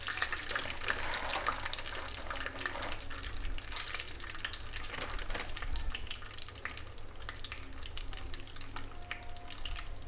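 Mustard seeds, cumin and chana dal frying in hot oil for an Andhra-style lemon rice tempering, giving a continuous close crackle and sizzle with light stirring and no talk.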